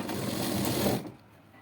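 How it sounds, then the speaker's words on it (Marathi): A sewing machine runs steadily, stitching the reverse side of a blouse seam, then stops after about a second, leaving a faint room hush. "आता उलट्या बाजूने शिलाई मारून घेऊया."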